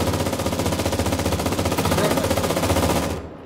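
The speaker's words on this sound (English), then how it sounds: "How mad would you guys be if I shot the gun?" A mounted turret machine gun hammers out a continuous rapid stream of shots in the battle royale game Cuisine Royale, loud and steady for about three seconds before cutting off abruptly.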